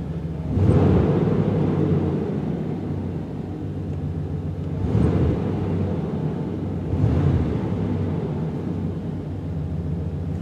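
A truck engine fitted with a Jones max flow exhaust, heard from inside the cab with no one talking, gives a steady low rumble that swells into throttle blips about three times.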